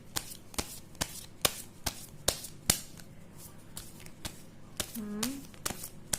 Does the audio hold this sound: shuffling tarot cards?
yes